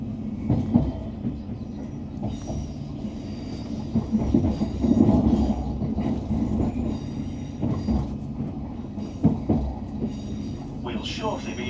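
A TransPennine Express passenger train nearing Manchester Victoria, rumbling along the rails with steady low droning and rhythmic clatter, muffled voices murmuring inside the carriage, and a brief high squeal near the end.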